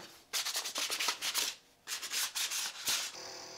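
Smooth wooden legs of a monitor stand are hand-sanded before assembly in rapid, close rasping strokes that run steadily, pause briefly, then resume.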